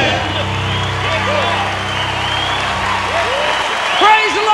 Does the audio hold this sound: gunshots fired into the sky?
no